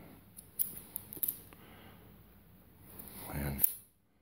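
Scissors snip through cord for a paracord snake knot, a few quiet close clicks and cuts early on followed by a louder thump near the end, faint and near.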